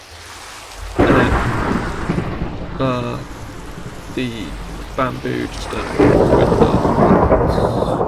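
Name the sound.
thunderstorm in Minecraft video game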